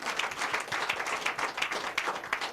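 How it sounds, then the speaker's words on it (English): People in a radio studio clap together, a brisk run of irregular close hand claps lasting a couple of seconds with no talk over it. "Make una clap for ourselves."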